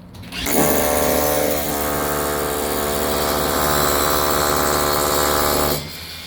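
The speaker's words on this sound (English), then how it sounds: "I'm going to go ahead and drill my first hole." A power drill bores a hole into a deck rail during a deck railing installation, its motor whining loud and steady for several seconds after a quick start, then stopping abruptly.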